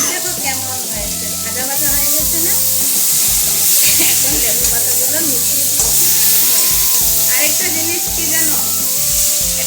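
Lemon leaves frying in a pan for a ghata with chopped eggplant and fish head give a steady, close sizzle throughout, with musical tones running underneath.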